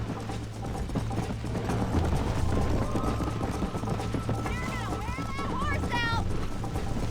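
Horse hooves gallop in Red Dead Redemption, a steady clip-clop running through the scene beneath in-game dialogue, music and other game sounds.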